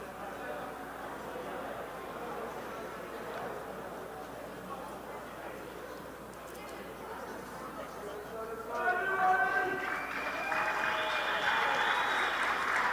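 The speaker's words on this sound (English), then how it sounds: "Good applause from both sets of fans." Rugby fans at a youth sevens tournament applaud from the stands, a distant, steady patter of clapping under the commentators' voices that swells louder near the end.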